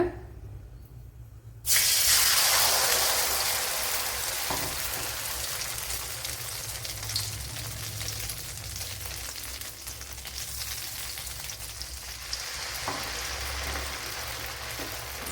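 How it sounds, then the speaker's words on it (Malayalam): Kalathappam batter hits a hot pan with a sudden loud sizzle, then settles into a steady hissing fry that carries on to the end, with a few faint clinks along the way and no talking. "കുഴച്ചിട്ട് മാവ് ഇതിലേക്ക് കോരി ഒഴിച്ചു കൊടുക്കുക"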